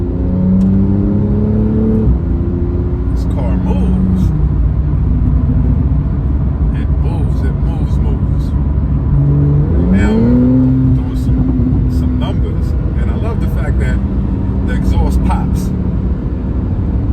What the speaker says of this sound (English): Spoiler alert, the exhaust is straight pipe.